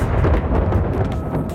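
Deep rolling thunder from an approaching storm, a continuous low rumble that swells and fades over the Ventoux and Baronnies area.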